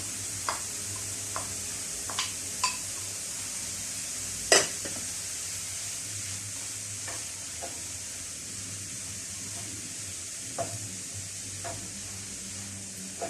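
Grated zucchini fries in a pan with a steady, soft sizzling hiss, broken by occasional light scrapes and taps from stirring.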